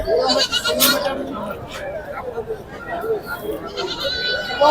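Sheep bleat at the Pebbair livestock market, with several wavering calls close by, a prominent one near the start and more toward the end, over a busy crowd with people talking.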